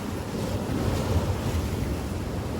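Heavy surf roars steadily throughout, a dense continuous rush of breaking waves mixed with buffeting wind on the microphone.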